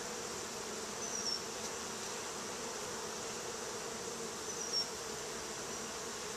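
Honey bees buzz inside a hive as a dense, continuous hum, close and steady, with occasional individual bees whining past near the microphone.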